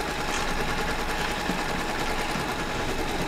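An embroidery machine stitches in a continuous, steady mechanical hum with a fast, even pulsing, close and alone.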